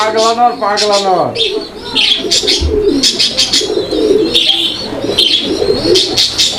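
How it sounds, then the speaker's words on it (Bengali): A male pigeon coos in soft, repeated throaty bursts nearby, mixed with chirps and someone speaking over it. "ওটা নর কবুতরটা ডাকাডাকি করতেছে আপনারা দেখতে পাচ্ছেন"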